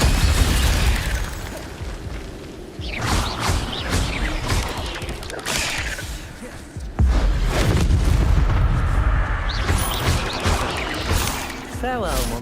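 Incendio fire spell cast repeatedly in the video game Hogwarts Legacy, loud whooshing bursts and booming blasts overlapping in battle, with a voice shouting amid the clamor.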